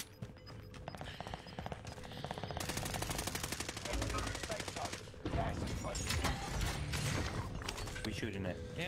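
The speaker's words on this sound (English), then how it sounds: "I was shooting at that guy because he's still shooting at me." Rapid automatic gunfire from the video game Warzone, sustained bursts of loud shots with mechanical clatter, continuing almost without pause over game sounds.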